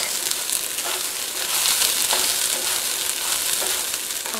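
Vegetables and rice for a vegetable pulav sizzle and hiss steadily in a hot pan while being stirred, with a constant bright crackle and occasional soft scraping accents.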